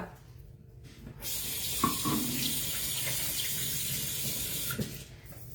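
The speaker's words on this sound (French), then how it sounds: "on se lave les mains" Water runs from a kitchen tap as hands are washed before baking, starting with a gush after a quiet moment and then flowing steadily and close, with faint splashes and no talk.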